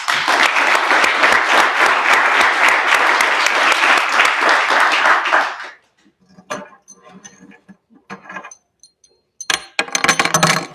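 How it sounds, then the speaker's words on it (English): A treatment court graduation ceremony erupts in a loud round of applause, dense rhythmic clapping for about five seconds that stops abruptly, followed by sparse rustling, small clinks and a short final burst of noise. "and I think it deserves its own round of applause."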